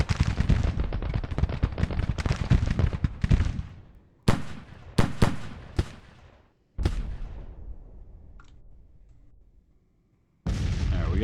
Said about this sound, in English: we got this battery firing now